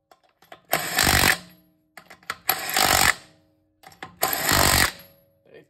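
Bauer 20V 1/2-inch cordless impact wrench tightening nuts, three loud hammering bursts of about half a second to a second each, separated by short pauses with faint handling sounds, close to the microphone.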